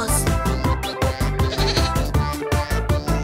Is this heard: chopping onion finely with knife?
no